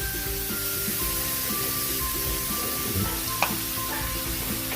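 Native chicken sizzles and fries in a pan just after a splash of fish sauce goes in, a steady close hiss with faint stirring scrapes and one brief clink, and no talk.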